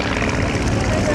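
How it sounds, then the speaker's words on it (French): A replica 1911 Model T propeller airplane flies at the Chartres air show, its engine droning steadily and loudly at mid distance. "L'avion que vous voyez donc évoluer, est un avion unique, c'est une réplique d'un modèle T de 1911."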